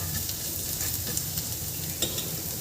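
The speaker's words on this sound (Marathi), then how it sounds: "याला फक्त 1 मिनिट आपल्याला परतून घ्यायचं आहे मसाल्याला" Masala stuffing for beetroot paratha sautéing in a small amount of oil, a steady soft sizzle with occasional light scrapes and stirring clicks, close and continuous.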